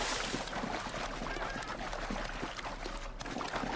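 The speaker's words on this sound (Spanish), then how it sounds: "Me gusta el sonido del agua" Flowing, splashing water in the Assassin's Creed Origins game world, a steady broadband wash that holds constant and fairly loud throughout, with no voices over it.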